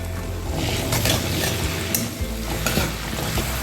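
Garlic, ginger and green chili paste sizzles loudly with golden-brown onions in a pan, while a spoon stirs and scrapes repeatedly through the close, steady frying, with no talking.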